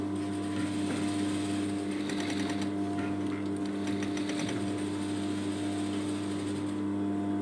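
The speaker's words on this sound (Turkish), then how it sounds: "Şu yaka altını diktiğim dikişin üzerinden tekrar dikiyorum." Sewing machine running steadily while stitching over the under-collar seam of a sweatshirt, a continuous close motor whir with a faint rhythmic needle tapping and no talk.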